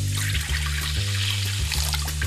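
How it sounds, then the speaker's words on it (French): Boiling water from a pot of cooked eggs splashes into a kitchen sink in a steady, close, continuous pour with a resonant gurgling hum from the basin. "il faut verser l'eau bouillante dans l'évier."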